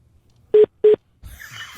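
Two short, sharp touch-tone beeps from a telephone keypad sound in quick succession while calling back a held call, followed by a low, muffled rustle on the line.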